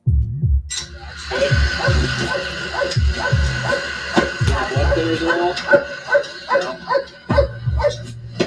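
A police K-9 dog in York, Maine barks loudly and repeatedly up close in rapid, agitated bursts, with yips and whimpers mixed in and faint voices in the background.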